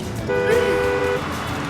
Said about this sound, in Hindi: अरे ये हॉर्न बजाने के लिए होता है।